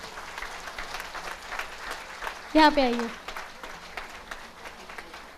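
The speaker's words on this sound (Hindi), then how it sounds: "बजते रहनी चाहिए तालियां।" Steady applause from an audience at a spine lecture, filling the room as someone speaks over it.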